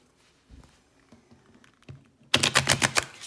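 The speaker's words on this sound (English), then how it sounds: "As usual, I'm going to attempt to shuffle them." A deck of tarot cards is shuffled, a few soft taps and shifts, then a loud rapid riffle of flicking cards near the end.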